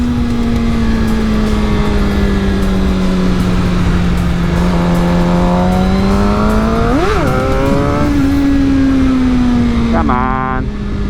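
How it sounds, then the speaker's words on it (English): A Suzuki GSX-R750 motorcycle engine hums steadily in first gear as its rear tire spins on slippery ground, the pitch rising in a sharp rev near the middle, then falling back and fluttering at the end. "I'll just spin back tire here. Watch. I'm just gonna roll in it into first. It's just gonna spin."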